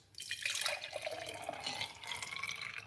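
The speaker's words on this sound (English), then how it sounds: "So pour out this juice." Juice pours into a glass in a continuous liquid splash and gurgle, close and fairly clear, with the pitch of the filling shifting as the glass fills.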